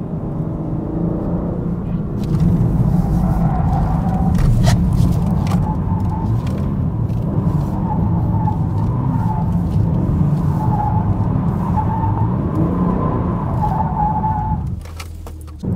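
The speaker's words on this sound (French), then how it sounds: "Vas-y, attends, on fait un donut." A BMW M3 Competition G80 does a donut, with its engine roaring loud and steady and tyres skidding for about twelve seconds before the noise drops away abruptly.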